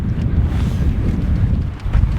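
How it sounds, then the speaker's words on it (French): Strong wind buffets a microphone outdoors in Norway, a steady roaring rush with gusty swells that fills the whole clip and carries no voices. "il y a vraiment beaucoup de vent"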